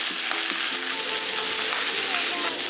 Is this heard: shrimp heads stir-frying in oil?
yes